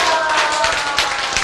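An audience applauds steadily at a talk on life and miracles, dense continuous clapping from many hands, close and loud without a break.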